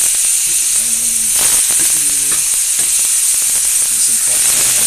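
Burger patties sizzle loudly on a hot griddle, a constant bright hiss, while a person talks over the frying.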